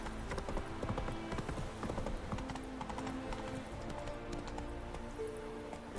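Roach the horse in The Witcher 3 trots along with a steady clip-clop of hooves, close and continuous over ambient game sounds.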